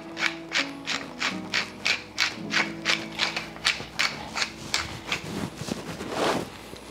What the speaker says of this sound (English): Now I'm gonna go ahead and take my pepper grinder.